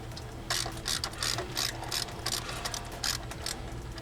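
A ratchet works a 22 mm brake caliper bolt loose on a Nissan 370Z, giving close, crisp clicking bursts in a steady back-and-forth rhythm, about eight strokes, with no talking.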